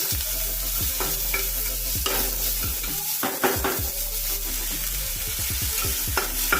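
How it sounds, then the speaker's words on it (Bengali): Onions frying and being stirred in a pan over low flame for a chicken kosha, with steady close sizzling and repeated scraping stirs and clinks of the utensil throughout, no talking. "পেঁয়াজটা ভাজা হয়ে গেছে দেখো সফট হয়ে গেছে"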